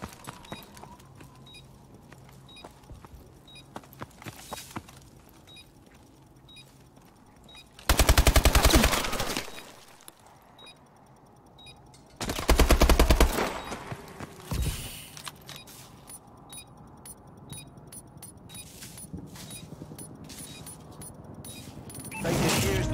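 Gunfire during a round of a video game fight: scattered single shots at first, then two loud sustained bursts of automatic fire separated by a lull, followed by quicker clusters of shots and clicks toward the end.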